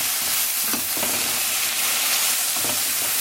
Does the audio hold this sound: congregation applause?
no